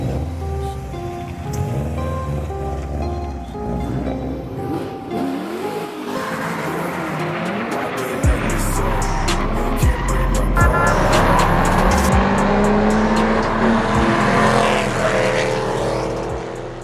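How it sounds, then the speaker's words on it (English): Sports cars in an unsanctioned street race on North Marine Drive roar past loudly with engine noise and tire squeals, a steady rush that swells and grows denser in the second half, with no talking. "North Marine Drive can be found to be packed with sports cars, drivers, and spectators alike to watch and participate in this unsanctioned street racing event"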